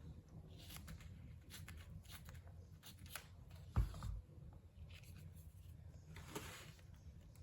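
Paper and fabric lace embellishment being trimmed with scissors, a series of soft, close snips and light rustling with one louder handling knock midway, all fairly quiet.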